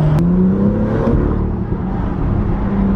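A BMW with an N55 engine revs loudly and close, its pitch climbing, then dipping and steadying into a strong sustained drone.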